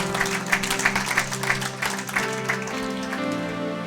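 A church congregation claps during a French-language sermon, with rapid, uneven hand claps over a sustained musical drone, starting stronger and gradually thinning out.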